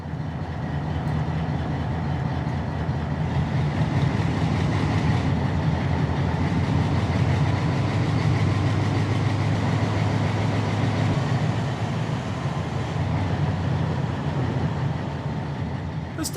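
A logging railroad train at Westpine, Oregon shoves empty cars through a siding, a steady, loud, continuous rumble with faint rail clatter and no talk.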